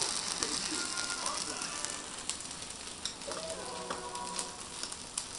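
Takoyaki batter balls frying in a hot takoyaki pan give a close, steady crackling sizzle with scattered small pops throughout.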